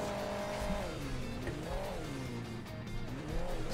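A rally supercar engine in the Hill Climb Racing 2 video game drones steadily throughout, its pitch rising and dipping in repeated sweeps as it revs, loud and close.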